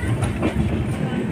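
A passenger train on a morning hill-country journey runs along its rails with a steady low rumble and continuous rolling noise, heard close from inside a carriage for a short stretch.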